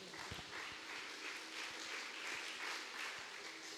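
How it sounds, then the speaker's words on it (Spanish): A church congregation claps steadily and warmly for several seconds, the applause sounding somewhat distant and filling the room, with no one speaking over it. "Dale fuerte aplauso al Señor."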